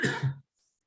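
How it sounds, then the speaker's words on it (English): A single short, close cough with two quick bursts, followed by near silence. "it makes me go on a cough, especially when I get excited"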